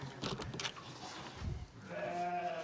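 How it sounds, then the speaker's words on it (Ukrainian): Goats bleat in a dim farm shed in the Carpathians, a few quiet cries rising near the end over a muffled, noisy barn background. "О, тут кози."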